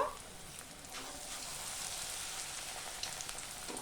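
Bok flower fritters dipped in gram flour batter frying in hot white oil in a kadai, a quiet, continuous crackling sizzle like light rain, with a few faint drips and taps.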